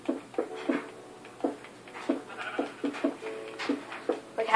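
Sheep in Minecraft bleat repeatedly in short, quick calls, several overlapping at a moderate, steady level with no talk over them.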